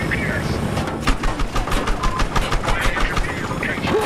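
A helicopter door gun in Battlefield Hardline fires a steady, moderately paced stream of rounds over a constant rotor and engine drone, with someone talking over the shooting.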